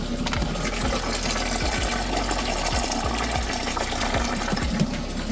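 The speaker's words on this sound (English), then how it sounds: "The fill light came on, and the system is filling." Steady pumping and rushing water as a hydroponic grow system fills with water, a continuous, even churn with a rhythmic low thumping underneath and no talking.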